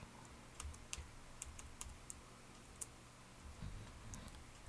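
Keys on a computer keyboard are pressed in a short, sparse run of light clicks while a password is typed, heard quietly over a low room hum with no talking.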